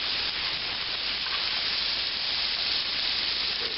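Veal saltimbocca sizzles in a hot pan, a steady, even frying hiss held close and unbroken, with no voices over it.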